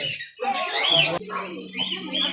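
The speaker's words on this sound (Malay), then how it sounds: "Cantik burung ni." A bird at a reptile and animal park calls loudly and near, with rising whistled tones and a harsher squawk over a low steady hum.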